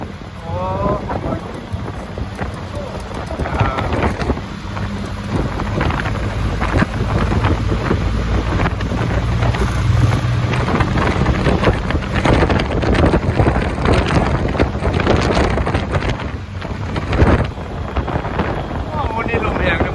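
Strong wind buffets the microphone on a ferry crossing from Vientiane to Nong Khai, a constant rough roar with gusts and a low boat rumble beneath, and scattered voices talking nearby.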